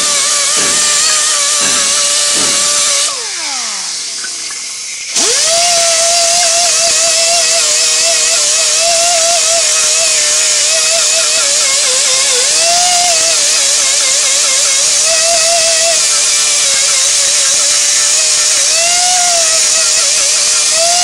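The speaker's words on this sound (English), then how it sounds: "I'm going to buff an area around that hole that's going to be as big or bigger than the patch." A power buffer grinds the rubber around a puncture hole in a tire ahead of patching, making a loud steady high-pitched whine that holds for about twenty seconds with slight wavering in pitch and a brief dip near the start.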